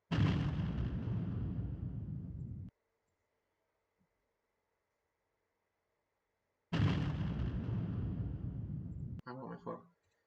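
Two loud explosion blasts from a Unity3D game-engine sound effect, each a sudden broadband boom that rumbles for a few seconds and cuts off. Silence separates them, and a faint short clatter follows the second.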